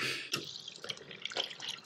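Tap water runs and drips at a sink while a vintage Rushton teddy bear is rinsed, giving a faint, close trickle broken by small irregular splashes.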